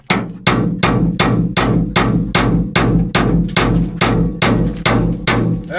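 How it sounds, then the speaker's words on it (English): Air hammer pounding on rusted, seized axle adjuster hardware of a Ski-Doo Nordic snowmobile, a loud, close series of about a dozen evenly spaced heavy bursts, each a rapid metallic rattle. "Air hammer moved it."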